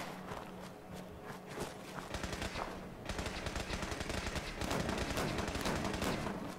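Gunfire in Fallout 76 during a Nuclear Winter match, with rapid bursts of shots mixed with quick footsteps, growing denser and louder toward the end.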